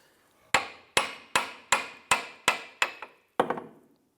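Eight sharp metallic hammer blows strike a Ford 500 rear control arm mount and bushing, driving them out of the chassis. The blows fall at an even, slightly quickening pace, loud and close, each ringing briefly, with no talking.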